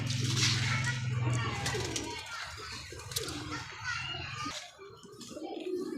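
Kasuri pigeons, kept in pairs, give low steady cooing near the start, underneath ongoing talk and children's voices in the background.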